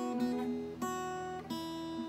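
Guitar strings six, four, three and two are plucked together as a chord, three times in a row, each ringing briefly; quiet and clean, with no voices.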